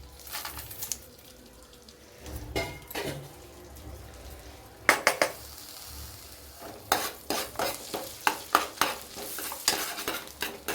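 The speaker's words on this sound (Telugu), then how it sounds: "బటర్ వేసినాక 2 స్పూన్ ఆయిల్ వేసుకోవాలి. ఆయిల్ వేసుకున్నాక గరం మసాలాలు వేసేసుకోవాలి." Garam masala spices fry in butter and oil for chicken pulao, a steady sizzle broken by repeated close stirring clatters and scrapes of a spoon against the pan, with no talk.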